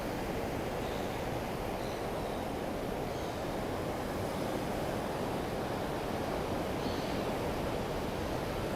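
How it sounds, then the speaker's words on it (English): Sea waves wash steadily onto Nobby's beach at daybreak, a continuous broadband roar of surf with gentle swells, fairly loud and unbroken, with no voices over it. "let's just pause and listen to the sound of the sea for a moment"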